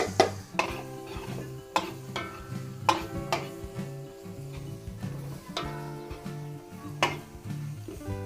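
A spatula scrapes and taps against a pan at irregular intervals while onions sauté with a soft sizzle underneath, close and moderately quiet.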